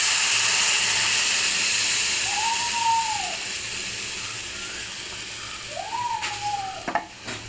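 Hot coconut oil tempering poured onto coconut chutney, giving a steady broadband sizzle and hiss that fades slowly, with two brief whistling tones and a few clinks near the end.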